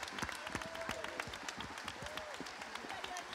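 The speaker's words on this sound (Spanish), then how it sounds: "Aplauso." Festival audience applauding, a dense wash of clapping with a few sharp near claps over faint crowd noise throughout.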